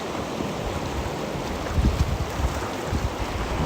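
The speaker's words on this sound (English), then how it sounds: "Listening to the waves crashing." Ocean waves crash on the beach at North Wildwood, New Jersey, as a steady broad roar of surf with heavier swells building midway, mixed with wind buffeting the microphone.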